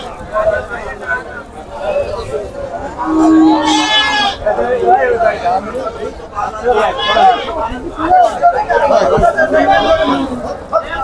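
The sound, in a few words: goats bleating at a goat market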